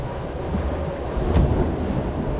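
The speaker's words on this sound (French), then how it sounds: "il y a le vent qui se lève" Gusty wind buffets the microphone at the Parc Astérix amusement park, a low rumbling roar with a brief stronger gust partway through and no speech.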